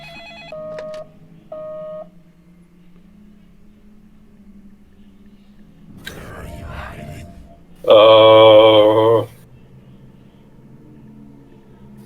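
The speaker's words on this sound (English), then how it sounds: "The phone starts ringing and it's some kind of scary voice on it" A telephone rings in the video game Deadly Premonition with two short electronic trills, followed later by a louder, harsh buzzing ring tone lasting about a second, over a quiet hum.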